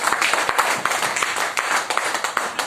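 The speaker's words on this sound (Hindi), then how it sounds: "इनके लिए भी एक बार जबरदस्त ताली होनी चाहिए" Crowd at a network business meeting in Nawada claps steadily, a dense wash of many hands applauding loudly and continuously with no pause.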